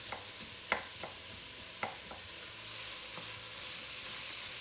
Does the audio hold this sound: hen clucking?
no